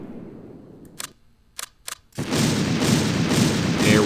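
Artillery fire in a war video game: a few sharp isolated reports, then a sustained loud roar of heavy barrage and rumbling explosions.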